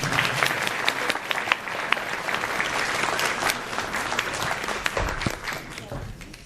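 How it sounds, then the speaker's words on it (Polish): A crowd at an amateur art awards ceremony in Lower Silesia, Poland applauds prize winners steadily throughout, dense clapping at moderate distance with a voice faintly speaking beneath it. "Wielkie brawa, proszę Państwa."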